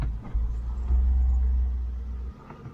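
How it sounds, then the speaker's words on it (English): A 1971 Range Rover with a misfire drives up a wet road, its engine a steady low rumble with a brief surge, heard from inside the cabin with no talk. "so I'm driving up quite a wet road here"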